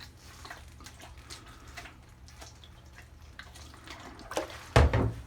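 Alcohol is poured and splashed over a 1978 Atari Super Breakout arcade circuit board to rinse off water. It makes a quiet, close trickle with small drips, then a louder splash near the end.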